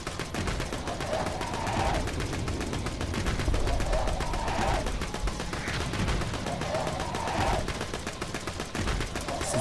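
Rapid gunfire from a weapon in the video game Borderlands 2, a dense continuous burst of shots running through most of the stretch with periodic swells, loud and busy with game effects layered in.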